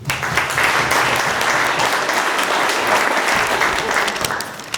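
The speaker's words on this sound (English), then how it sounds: "So I want everybody to give yourselves a round of applause." A full audience round of applause at a community address, loud dense clapping sustained for several seconds with no talk over it.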